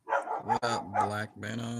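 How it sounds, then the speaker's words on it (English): A neighbor's dog barks a few times in the background while someone talks over it, the barks partly buried under his voice. "Sorry about the neighbor dog."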